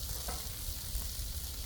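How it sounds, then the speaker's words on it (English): Chicken sizzles in oil on a Blackstone griddle with a dense, steady hiss and fine crackle. It is heard close up for a short moment, with no talking over it. "kind of spread out the chicken, kind of get it coated with the oil first"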